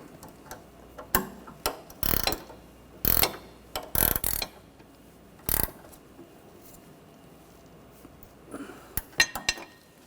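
A 15mm ratchet wrench tightens the nut on a front sway bar link of a 2013-2019 Ford Escape, making close, loud bursts of rapid clicking separated by pauses, with a few sparser clicks near the end.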